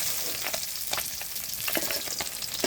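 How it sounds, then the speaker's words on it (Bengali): Fish frying in a pan gives a steady, close, dense sizzle, with scattered pops and light scraping bursts throughout and no voices. "দেখুন আমার মাছ ভাজা হয়ে গেছে"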